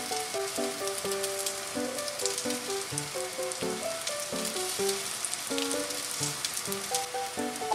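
Slices of bread for French toast sizzling in melted butter in a frying pan, a steady dense crackle and hiss throughout with faint kitchen ticks, no talking.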